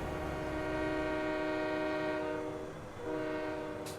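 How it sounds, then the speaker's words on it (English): A train in the video game Farming Simulator 17 rolls past with a sustained, droning horn blast that holds steady, breaks off briefly, then resumes, loud and alone with no talk. "This train is bound and determined to be in my video today."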